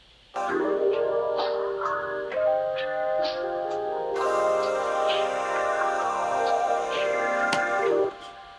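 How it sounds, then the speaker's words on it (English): A phaser-filtered music sample with Neo Rhodes electric piano and vocals layered in, sustained and loud throughout, thickening halfway through with brighter, fuller texture before cutting off near the end. "I still had all of the Neo Rhodes and the vocal still playing with it"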